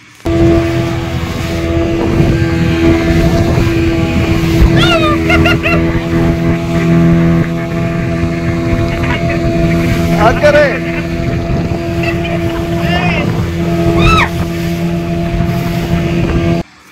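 A motorboat running over the sea gives a loud, steady engine drone and hum with wind buffeting the microphone, while people's voices and a few higher calls rise over it now and then.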